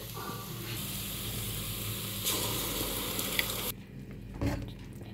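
Chicken pieces land in a pan of fried onions with a loud, steady sizzle and some stirring, then the frying drops to a quieter hiss near the end.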